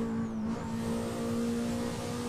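A Honda Civic EG6 engine on a No Hesi SRP run holds a strong, steady tonal drone with a brief dip in pitch early on, sounding close and continuous with no voices.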